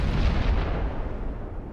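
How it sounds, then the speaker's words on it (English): Deep, rumbling explosions from the Destiny video game fill the clip, a dense, loud boom that tails off slowly with no voices over it. "Cisco, what are all these explosions?"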